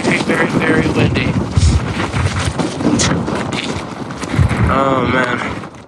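Strong, gusty wind on a high mountain summit in Glacier country buffets the microphone with heavy roaring rumble, while a voice is heard speaking through it.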